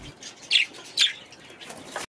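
Birds in a mixed outdoor aviary, set up with windbreaks for extreme cold, give bright chirps and tweets, with two louder calls standing out against a soft background of other birds.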